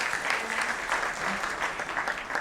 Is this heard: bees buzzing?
no